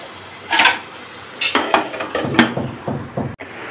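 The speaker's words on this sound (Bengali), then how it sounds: "এই যে তরকারি দিয়ে জাস্ট একটু উল্টাপাল্টা করে দিলাম" A utensil turns fish and vegetable curry in a pan, making a handful of close, uneven scrapes and knocks against the metal, with a faint sizzle underneath and no talking.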